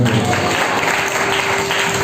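A church congregation clapping together, a dense, steady burst of applause lasting about two seconds, loud and close with no pauses.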